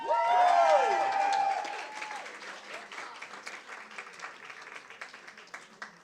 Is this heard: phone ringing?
no